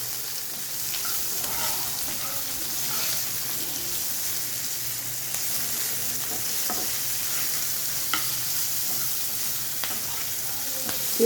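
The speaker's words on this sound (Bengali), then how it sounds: "এবার আমি এটাকে আবার নেড়ে দিই।" Onion, potato and chopped green chili sizzle steadily in a hot pan as a spatula stirs them, producing a continuous loud crackling hiss with occasional scraping knocks and no voices.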